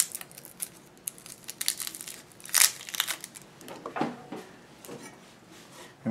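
Papery skin being peeled off a halved shallot in a kitchen while making chicken piccata, close, quiet crinkling and crackling with a few sharper tearing rustles, no speech.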